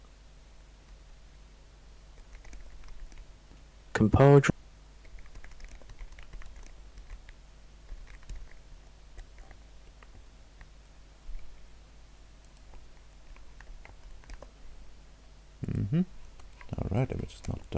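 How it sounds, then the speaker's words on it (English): Computer keyboard typing, soft scattered key clicks ticking along quietly across the stretch, with short bursts of speech near the start and end. "Just typing this in."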